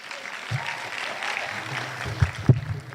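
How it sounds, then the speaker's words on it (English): A short stretch of audience applause after a dance performance at a Bharatanatyam arangetram, with steady hall clapping and a couple of sharper claps near the end. "please give yourselves a round of applause"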